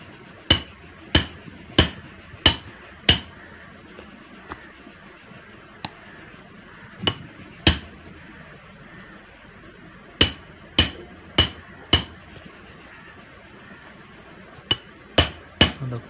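A mallet strikes a chisel while a carpenter cuts a hole in wood, giving sharp, close, evenly spaced knocks in bursts of four or five with short pauses between groups.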